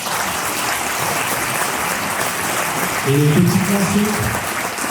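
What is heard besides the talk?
audience applauding the orchestra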